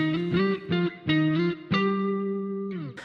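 Overdriven electric guitar answers with a brief phrase of double-stop notes, settling into a held, ringing final note.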